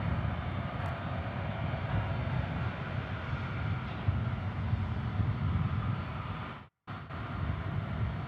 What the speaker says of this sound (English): And also some close-up taxiing